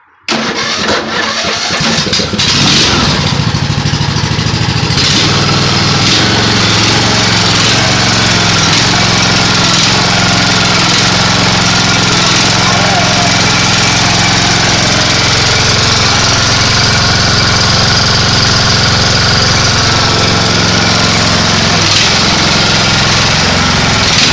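A riding lawn mower engine cranks and catches, then runs loudly and steadily at close range without letting up.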